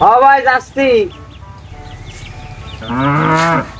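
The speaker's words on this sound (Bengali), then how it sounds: "এই গরুর ডাকে তো অতিষ্ঠ হয়ে গেলাম" A cow moos loudly and close by in two drawn-out calls separated by a pause, while someone speaks briefly in the background.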